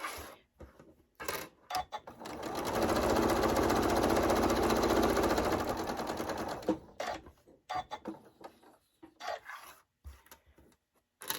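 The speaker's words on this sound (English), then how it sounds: "we're going to sew a 1/4 inch seam here." A sewing machine runs a 1/4 inch seam on a scrappy fabric pouch, a fast, loud, steady whirring run of about four seconds bracketed by softer handling clicks and rustles.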